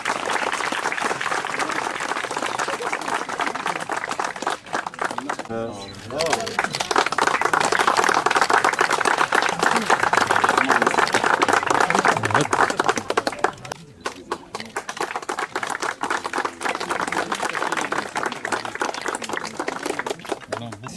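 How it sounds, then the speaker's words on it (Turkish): Children applaud loudly and steadily at an award ceremony honoring world champion athletes in Batman, with dense, sustained clapping that dips briefly before rising again. "çocuklar canlı alkış"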